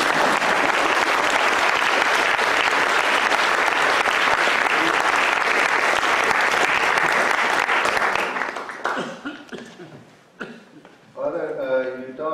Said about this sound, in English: Can we give him a round of applause first?